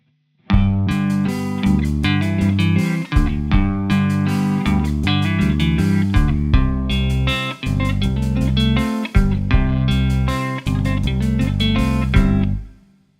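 Electric guitar with a light effects tone strums the opening two verse phrases of a song in four rhythmic chord bursts with short gaps, clear and close.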